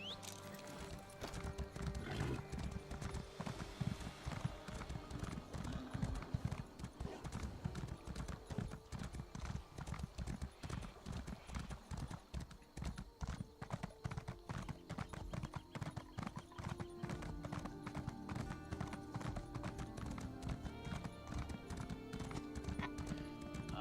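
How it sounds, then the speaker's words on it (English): Rapid, steady clip-clop of horse hooves at a gallop in The Elder Scrolls Online, continuous and rhythmic throughout, with an occasional whinny. "Horse."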